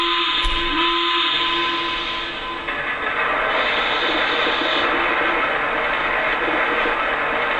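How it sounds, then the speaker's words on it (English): Continuous rushing, grinding rumble from the coal refilling effect of a Lionel Nickel Plate Road 2-6-6-2 Mallet model steam locomotive, loud and steady throughout with a brief click near the start. "Here's the coal refilling sound."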